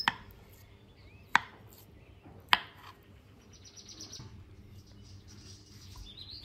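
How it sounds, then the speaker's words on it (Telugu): Food is cut into small pieces with three sharp, separate knife chops on a board, spaced about a second apart, with quiet kitchen ambience and faint chirps after. "ఇప్పుడు చిన్న చిన్న పీసుల్లా కట్ చేసుకోవాలి"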